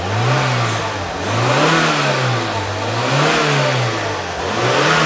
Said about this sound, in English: Do not rev your engine.